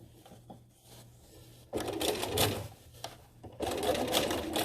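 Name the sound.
sewing machine straight top stitching drape seams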